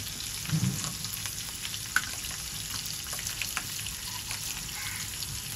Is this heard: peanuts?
yes